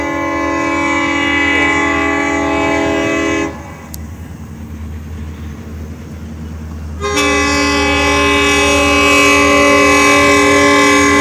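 Canadian National freight train 9565 passing through Effingham, Illinois, its horn sounding in long, loud sustained blasts, breaking off briefly before resuming over the steady rumble of the rolling train.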